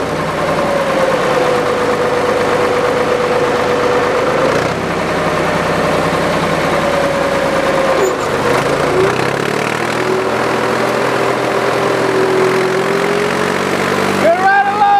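A tractor engine runs steadily while plowing a fall food plot, a loud continuous drone that shifts pitch as it labours and changes gear, with people talking over it.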